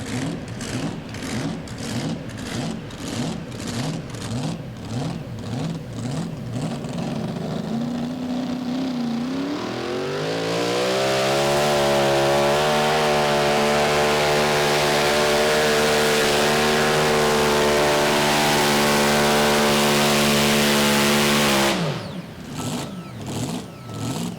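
A mini rod pulling tractor nicknamed the vibrator, a violently shaking competition puller, revs loudly up close, its engine note climbing and then holding a sustained high scream before dropping back to a pulsing, throbbing idle.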